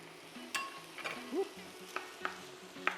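Spicy chicken fried rice with green onion and soy sauce is stir-fried in a pan, a soft sizzle under a few sharp clinks and scrapes of the utensil, close and fairly quiet, with faint background music.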